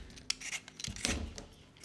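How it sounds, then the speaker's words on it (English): Peeler scraping skin off a turnip, a few short, close rasping strokes with brief pauses between them, no talking. "Now for our turnip potato replacement, you're going to want to peel off the skin."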